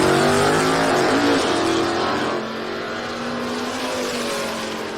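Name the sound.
drag racing cars passing at speed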